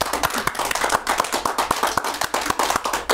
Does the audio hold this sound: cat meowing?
no